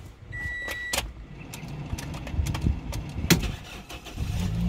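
A Bluebird Limo Gen 3 ex-taxi has its engine started, a short electrical whine and clicks followed by the engine catching and rising into a rough idle that builds toward the end, heard close up inside the car.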